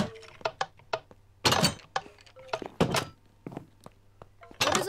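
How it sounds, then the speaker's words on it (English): Skeleton mobs in the video game Minecraft make scattered, hollow bony clicks and clattering knocks at irregular intervals, with a few louder rattling bursts over a quiet low hum. "What are those skeleton sounds?"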